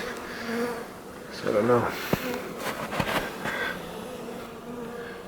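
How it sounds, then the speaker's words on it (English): Honey bees buzz around a backyard hive in winter, some flying fast and agitated, their faint steady drone running under a man's close, quiet talking. "there's some bees up here that are moving around a little bit fast"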